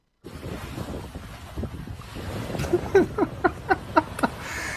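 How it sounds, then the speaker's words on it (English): Ocean surf rolls in a steady broadband rush with gusty wind noise on the microphone, and a short run of rhythmic knocks or splashes rises near the end. "it's some guy trying to mop up the ocean"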